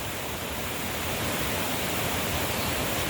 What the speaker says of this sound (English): here you can see the flowing river